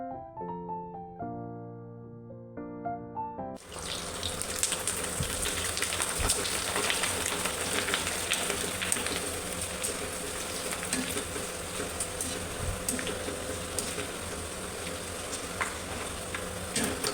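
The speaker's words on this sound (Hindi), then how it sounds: "आज तो बस मैं आपको जस्ट जो है रोल फ्राई करते हुए दिखा रही हूँ" Rolls frying in hot oil, a dense steady sizzle and crackle that sets in abruptly after a few seconds of quieter sound, then continues loud and constant with no speech.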